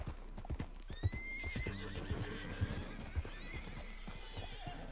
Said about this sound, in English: A lot of horses around here, I just noticed.